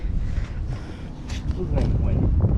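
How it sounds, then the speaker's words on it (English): Gusty wind buffets the microphone with low rumbling roars, rising and easing over a couple of seconds, with brief bursts of noise on top. "It's a little windy"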